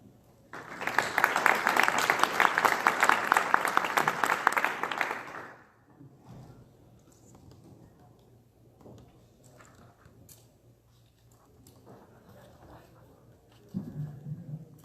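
An audience at a Minnesota Rural Broadband Coalition event applauds to welcome a speaker, a dense burst of clapping lasting about five seconds that then fades into room shuffling and light movement.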